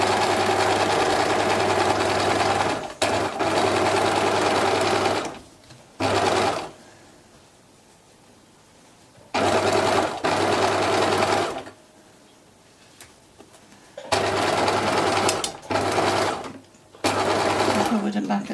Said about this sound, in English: Place your work under the machine and go down the side seams first, just 1 centimetre from the edge.